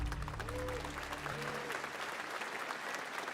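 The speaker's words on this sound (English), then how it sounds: "Polite clapping." A live event audience at Summer Game Fest gives a round of polite clapping, a dense steady patter of many hands heard through a stream with a low musical drone underneath that fades out.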